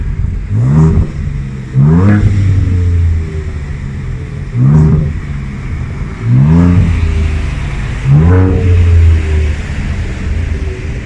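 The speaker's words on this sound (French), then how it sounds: "ici, on a les deux échappements. Et ils sont pas là pour rien parce que je peux vous dire que ça sonne vraiment bien" A 2023 Ford Ranger Raptor with a 3.0-litre V6 biturbo and twin exhausts is revved five times in short, loud bursts, each rising sharply then dropping back to a deep idle rumble, close and without talk.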